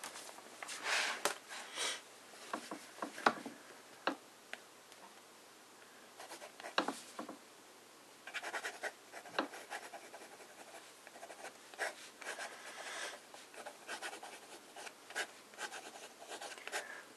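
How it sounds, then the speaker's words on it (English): Fountain pen with J. Herbin Orange Indien ink writing on cheap paper, close and quiet, with soft scratchy nib strokes and brief taps coming in uneven bursts and short pauses. "So we'll start with a bit of fine writing."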